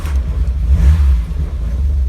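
A Volkswagen Golf Mk1 cabriolet engine catches and runs, a loud steady low rumble with a brief surge of revs near the start, no voices over it.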